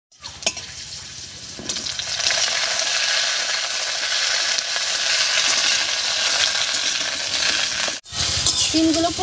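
Cut flat beans drop into hot oil in a wok and fry with a strong, steady sizzle while a utensil stirs them, scraping and clinking against the metal; a short break comes near the end.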